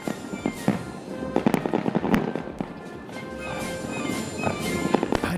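Fireworks over the National Mall at a Salute to America celebration pop and crackle in a dense, irregular series of sharp bursts, some near and loud, others more distant.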